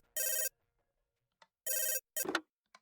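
A telephone rings in two loud, bright bursts separated by a pause, with short fainter chirps and a brief ringing fragment trailing after, heard alone without talk.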